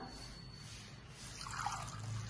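Water is poured into a pressure cooker holding rice, split green gram and fenugreek for karkidaka porridge, making a soft, faint trickle close by with no talk.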